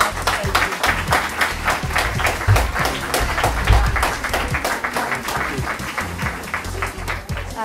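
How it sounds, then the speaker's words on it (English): Residents at a participatory budgeting meeting in Higher Fold, Wigan, give a sustained round of applause, many distinct hand claps forming an even, lively patter in a room, with occasional low thumps and murmurs. "you need to give yourselves a big round of applause"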